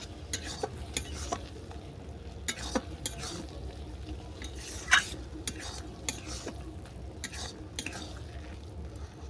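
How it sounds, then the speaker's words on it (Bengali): A mash of gab leaves stirred together with fried fish in a pan, a spoon scraping and tapping the pan in irregular bursts over a low, steady frying sizzle, close but fairly quiet. "আবারও 1 মিনিট আমি ভালো করে এটাকে নেড়ে নেব"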